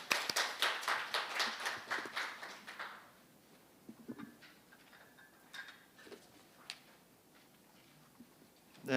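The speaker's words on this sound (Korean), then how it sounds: "큰 박수 부탁드립니다." Small seminar audience giving a brief round of applause, about a dozen distinct claps in quick succession over the first three seconds, then scattered faint taps and room noise in a quiet hall.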